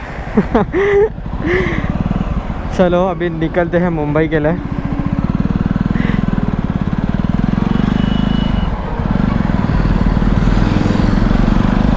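A Jawa 42 single-channel ABS motorcycle engine runs steadily and loudly close by, rumbling continuously under a man's speech as the bike sets off on a cloudy day.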